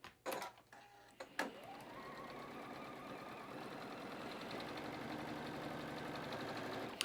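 A sewing machine stitches quilt pieces along both sides of a drawn line with a quarter-inch seam, running as a steady mechanical whir after a few sharp clicks and handling knocks at the start, moderately quiet and close.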